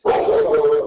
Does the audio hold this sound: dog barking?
yes